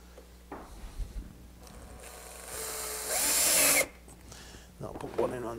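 Small screws driven into a wooden ellipse jig with a power drill: a short whirring burst that rises to a loud high whine for about a second, between softer handling clicks and knocks close by.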